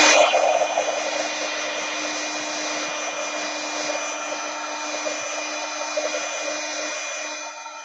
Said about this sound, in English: let's use the heat gun a little here